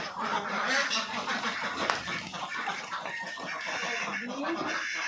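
Ducks kept in confinement on a Bengali duck farm quack and honk in a dense, continuous chorus that stays close and fairly loud throughout, with some faint human voices mixed in underneath.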